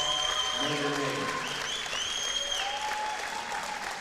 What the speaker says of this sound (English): You hear a big round of applause for them from all the fans